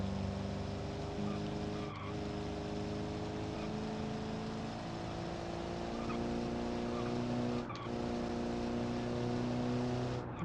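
A restored 1946 classic car drives along a road, its low-powered engine droning steadily with shifting tonal hum, fairly close and continuous, with brief dips in the sound.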